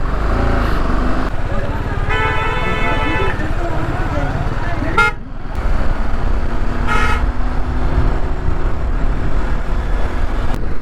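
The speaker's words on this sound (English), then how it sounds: "Too much of traffic." Heavy road traffic crawling through a jammed mountain route near Sonmarg, with car horns tooting repeatedly, one long honk and several shorter beeps over a steady engine rumble close by while a voice talks over it.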